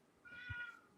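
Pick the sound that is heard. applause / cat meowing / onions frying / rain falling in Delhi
cat meowing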